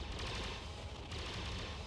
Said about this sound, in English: the cannons are becoming far more active than they were beforehand